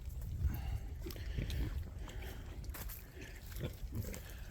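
Berkshire piglet grunting close by in short, irregular bursts under a steady low rumble, with a voice talking throughout.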